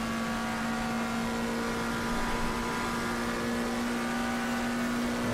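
A McLaren GT3 race car's engine drones steadily in a racing video game at Circuit Paul Ricard, a continuous, even whine with no speech over it.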